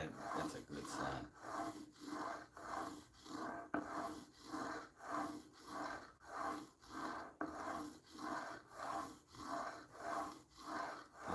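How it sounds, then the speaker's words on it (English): A steel blade stroked back and forth across a soaked 400 grit whetstone, giving steady rhythmic rasping scrapes about once a second, close and fairly quiet, with no one talking. "That's a 400 grit we're on right now."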